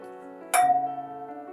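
Two wine glasses clink together in a toast, a single bright ring at close range that lingers as a clear sustained tone and slowly fades, against a quiet room.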